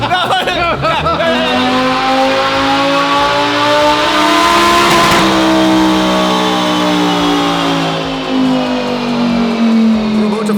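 A Lamborghini LP570 engine revving hard, a loud, close, rising howl that climbs and holds at high pitch, then eases back and rises again near the end.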